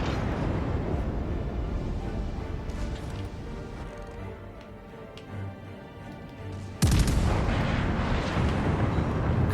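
Secondary guns on the battleship Bayern in a World of Warships naval battle, a loud rumbling barrage of booming gunfire under constant low ship noise, ending in one sharp, heavier blast near the end.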